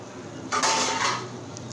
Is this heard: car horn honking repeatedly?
no